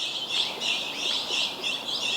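Many birds chirp and tweet in the morning near a parked van, a dense, repeating chorus of high calls, close and steady with no talk.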